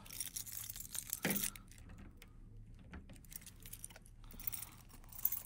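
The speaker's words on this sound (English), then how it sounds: "have a set of keys" Set of keys jangles softly at close range while a puck lock is removed, with scattered metallic clinks over quiet room noise.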